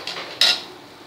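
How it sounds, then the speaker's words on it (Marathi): A metal lid clatters once onto a hot tawa holding a homemade pizza, one sharp close clank after a softer rattle, then quiet. "हे बघा असं झाकण ठेवायचं आहे"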